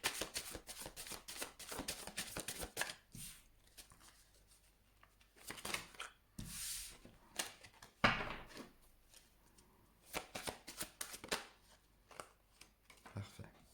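Tarot cards shuffled by hand, repeated crisp riffling bursts and soft slaps in irregular clusters, close to the microphone, with quiet pauses between and faint voice in the background.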